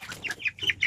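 Backyard chickens cluck close by in a quick, uneven series of short throaty notes, about six calls in under a second, alone without talk.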